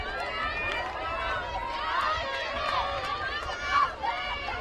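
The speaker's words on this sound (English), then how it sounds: "Well, that crowd is going crazy." A soccer crowd at a match roars and chatters continuously after a goal, a dense, busy wash of many voices swelling slightly near the end, heard from within the stands.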